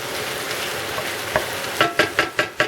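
Potatoes and meat sautéing in a pan, a steady soft sizzle with several sharp clinks or stirring scrapes in quick succession near the end, no talking.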